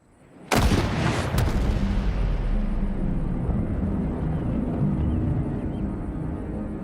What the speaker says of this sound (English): Joel demonstrates this with the modern rifle